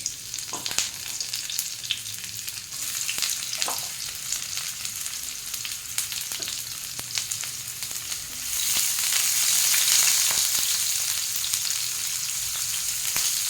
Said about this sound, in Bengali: পেঁয়াজটা ভেজে নেবো, খুব কড়া করে ভাজবো না বা খুব লাল করে ভাজবো না, তো হালকাই ভাজবো।